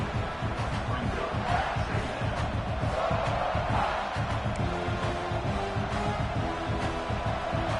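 A packed stadium crowd at a South Carolina versus Purdue college football game roars continuously, a dense, loud wall of cheering and yelling that holds steady throughout.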